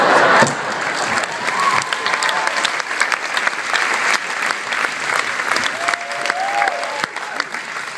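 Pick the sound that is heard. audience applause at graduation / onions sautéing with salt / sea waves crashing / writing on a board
audience applause at graduation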